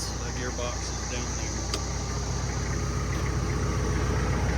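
A hay cutter running with its belts and shaft turning, a steady mechanical engine drone with a bright whirring hum and one sharp click, holding even throughout.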